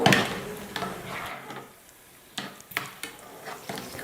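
Cashews frying in ghee in a pan for sweet pongal, with a spoon stirring and scraping in short bursts over a soft sizzle, near and fairly quiet.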